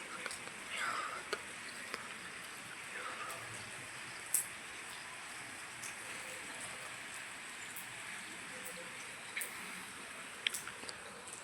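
Steady rain falls on surfaces after hours of downpour, making a continuous soft hiss with scattered drips and small taps, a few louder isolated drops standing out briefly.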